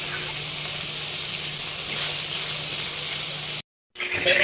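Sliced round bitter gourd sautés in a pan with spices, giving a steady loud sizzle that runs continuously and then cuts out briefly before resuming.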